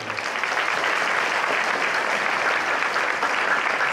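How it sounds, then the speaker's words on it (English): An audience at a school Veterans Day celebration breaks into steady, dense applause, a continuous wash of clapping from a large indoor crowd held at an even level throughout. "Give a round of applause."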